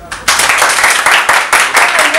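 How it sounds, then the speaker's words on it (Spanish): Audience claps loudly after a theatre play, a sudden burst of dense applause that swells in uneven waves, with voices mixed in. "un aplauso para ustedes"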